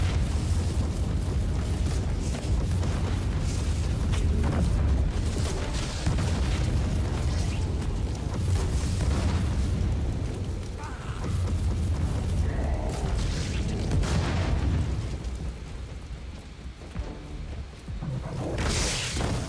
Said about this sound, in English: Yeah, you see explosion?